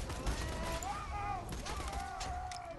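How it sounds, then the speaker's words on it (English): Shotgun blasts in Borderlands 2 gameplay, sharp bursts of gunfire layered over game sounds and voices, fairly loud and steady throughout. "then I'll start using my shotgun"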